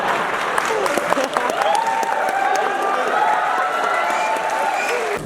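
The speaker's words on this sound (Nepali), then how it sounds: "त्यताकोले ताली पड्काउनुहुन्छ," Applause from a crowd at a political rally in Nepal, a dense, sustained patter of many hands clapping throughout. A voice talks over it.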